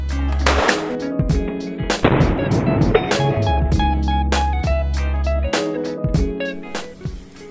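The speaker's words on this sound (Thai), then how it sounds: "เราจะมาทดสอบยิงเหล็กกันนะครับ ตัวเหล็กก็จะเป็นขนาด5-6 มิลครับ" RUIBA GS-6008 concrete nail gun firing into 5–6 mm steel plate, a series of sharp loud cracks at irregular intervals, each with a brief ringing metallic tail, close by and with no talking.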